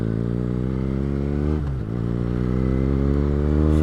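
A motorcycle cruising on a US highway, its engine droning in a steady low tone with a brief dip in the middle before settling back, heavy wind rush filling the sound throughout.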